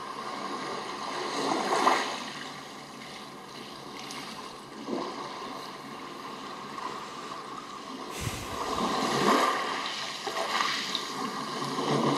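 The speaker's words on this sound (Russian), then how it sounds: "звуки природы, шум моря и так далее" A recorded sea-wave sleep sound played from a Xiaomi device: continuous washing water noise with slow swells rising and falling, like waves rolling in, steady and fairly loud with no voices.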